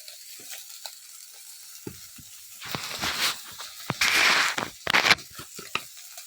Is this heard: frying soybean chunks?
yes